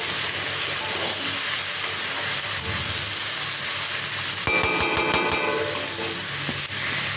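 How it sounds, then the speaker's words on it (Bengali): Fish frying in hot oil in a home kitchen, a continuous loud sizzle and hiss, with a burst of scraping and clattering from stirring partway through. "এর মধ্যেই ভাজা ভাজা করে নেব এবার একটু ভালো করে নেড়ে"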